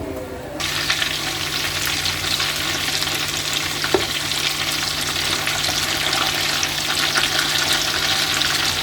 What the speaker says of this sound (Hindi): देखिए इस तरह हल्के से ब्राउन करके इसे निकाल लीजिएगा।